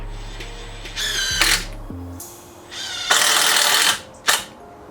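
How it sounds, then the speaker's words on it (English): A power drill whines in short bursts as screws are driven, with clicks and handling noises between runs. "We're using screws to drill in this pattern here."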